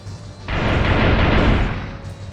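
Mortar strike explosions in the Ravenfield video game erupt as a loud, sustained rumbling barrage that starts abruptly and rolls on for about two seconds before easing, with no talk over it.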